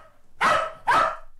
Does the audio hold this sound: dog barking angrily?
yes